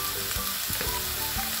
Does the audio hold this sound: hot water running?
no